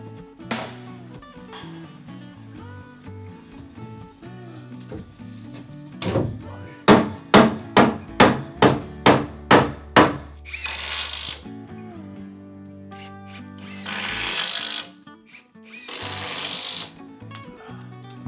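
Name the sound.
installing wooden wall sheathing panels with tools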